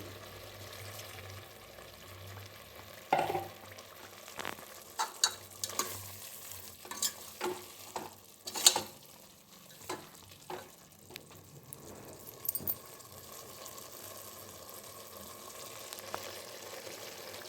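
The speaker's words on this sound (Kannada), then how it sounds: "ಮಸಾಲೆ ಸೇರಿಸಿ ಇನ್ನೊಂದು ಸರಿ ಮಿಕ್ಸ್ ಮಾಡ್ಕೊತಾ ಇದ್ದೀನಿ" Vegetables for pulao stirred with masala in a frying pan: a steady low sizzle runs throughout while a spoon scrapes and clatters against the pan in irregular close strokes.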